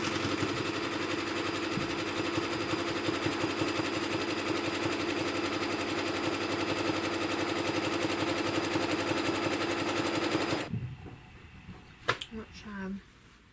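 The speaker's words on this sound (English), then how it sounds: "I'm using a zigzag stitch to put 2 pieces of batting together" A sewing machine zigzag-stitches two pieces of quilt batting together, running at a steady fast rattle for about ten seconds before stopping abruptly, followed by a few faint handling clicks.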